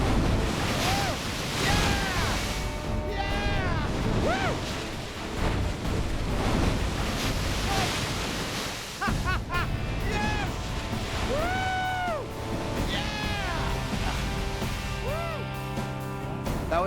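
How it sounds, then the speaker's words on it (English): Rough river rapids roar and churn, with heavy wind buffeting the microphone throughout, while excited voices shout and whoop over the rushing water. "was by far the most severe rapids we've yet experienced on this river"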